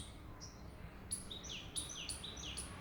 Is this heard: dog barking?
no